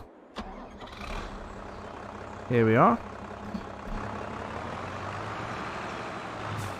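A tractor engine in Farming Simulator 22 hums steadily at low volume, with a brief rising rev near the middle, while someone talks over it.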